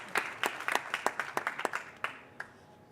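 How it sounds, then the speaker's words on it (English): A small audience at a smart city startup awards final claps for a few seconds, a dozen or so distinct, fairly close handclaps that thin out and stop. "Please, big applause for him and his elephant."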